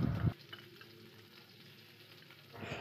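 Onion, ginger and garlic paste drops into hot oil with cumin, opening with a short loud splash and sizzle, then a faint steady frying hiss that swells again at the end.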